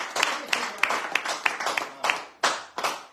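Audience applause in a packed room during a French radio bistro show, with dense clapping rising and falling in bursts, fairly close and loud, and a few sharper individual claps standing out.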